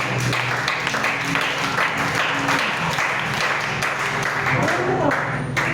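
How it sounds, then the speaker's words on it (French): A church congregation claps and cheers together in sustained, dense applause that carries on throughout, with voices mixed into the crowd noise. "acclamez d'abord pour vous"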